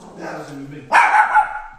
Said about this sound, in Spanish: Maya, la perra que tiene Lifty, eh, al parecer como que ya olió algo ahí, como que viene alguien.